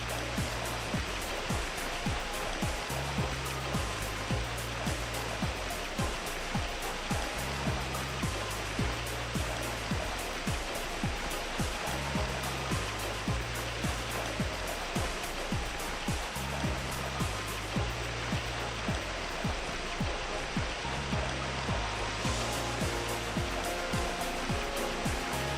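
A video game waterfall rushes in a steady, dense roar throughout, with a faint rhythmic low thumping pattern repeating underneath.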